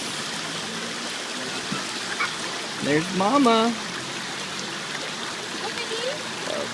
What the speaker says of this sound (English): Playing in the fountain.